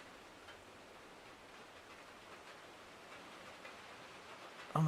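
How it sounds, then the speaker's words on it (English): Rain patters on a roof in a video game, a soft, even hiss of drops that stays faint and steady throughout, ending with a louder bump at the very end. "That rain hitting the roof?"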